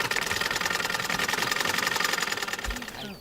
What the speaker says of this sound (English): he then started operating his sewing machine much faster